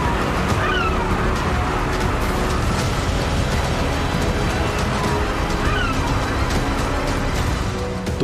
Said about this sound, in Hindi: एक तरफ विशाल समुद्र की तेज लहरें थीं